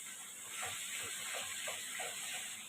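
Spice paste fries in a hot pan with a continuous bright sizzling hiss, close and steady, broken by a few soft bubbling pops.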